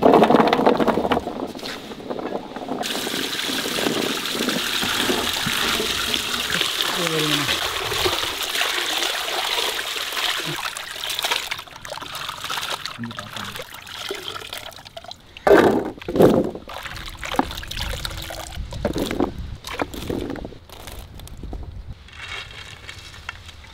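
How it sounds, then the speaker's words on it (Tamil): Elephant foot yam is washed in water in a kitchen while cooking cutlets: a steady run of sloshing, trickling and dripping water, with a person talking through much of it. "சேனக்கிழங்க கழுவி எடுத்துக்கலாம்."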